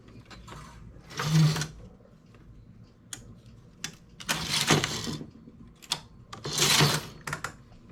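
Knitting machine carriage sliding across with rattling mechanical clacks in three distinct passes, interspersed with small ticks and clicks, close and moderately loud with no talking.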